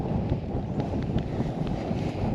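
Steady wind buffeting a microphone on a fishing boat rocking in rough fall water at 22 feet deep in the western Sound while blackfishing, a constant loud low rumble with gusty swells and no speech.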